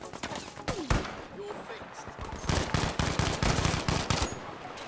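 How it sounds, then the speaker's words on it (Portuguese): Bursts of rapid automatic gunfire and scattered single shots in a Battlefield V firefight, loud and close, coming in clusters with brief gaps and mixed with game effects. "Ui, estou a levar com tiros, meu."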